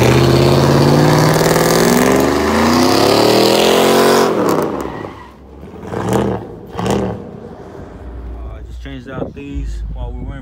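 A car pulls up nearby with its engine revving loudly. The pitch climbs and then cuts off, followed by a few short blips of the engine, with people talking over the latter half.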